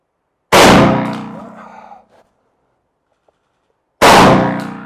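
Shotgun blast firing 27-pellet number 4 buckshot outdoors, a sharp loud report with a ringing decay, then silence before a second identical shot.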